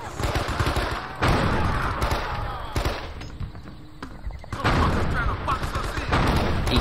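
Sustained automatic gunfire and bursts of shots in the Men of Valor war video game, with dense overlapping fire throughout and a shouting voice mixed in.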